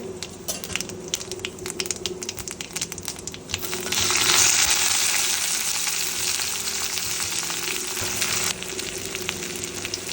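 Onion hits hot oil already holding bay leaf and cumin, and a quiet background crackle swells into a loud, close, steady sizzle that then settles slightly lower.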